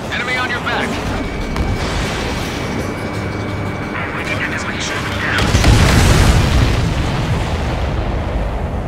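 Explosions boom through a jet combat scene in Ace Combat 7, a dense, loud rumbling wash of blasts and engine roar that swells louder toward the end, with radio-style voices talking over it.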